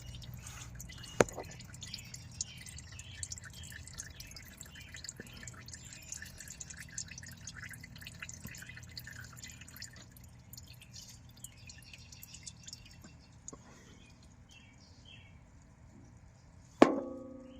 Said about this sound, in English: That was clean motor oil coming in.